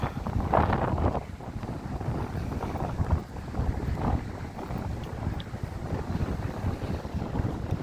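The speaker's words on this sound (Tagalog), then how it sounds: "ang lakas ng alon. High tide siya ngayon" Strong waves at high tide along the Calamba Baywalk seawall in Laguna, a continuous rough wash and rumble of surf mixed with heavy wind buffeting the microphone, with no talk over it.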